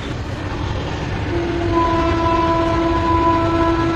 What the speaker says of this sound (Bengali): হ্যাঁ, হর্ন বাজে যাচ্ছে ট্রেন